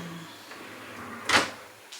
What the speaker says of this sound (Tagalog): Medyo maingay yung aming cabinet.